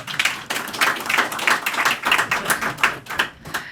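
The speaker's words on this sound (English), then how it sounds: "Could you please start off with a round of applause to everybody for showing up?" A small crowd at a Merri Creek Tavern session gives a round of applause: a loose, uneven patter of nearby hand claps with distinct individual hits rather than a dense roar.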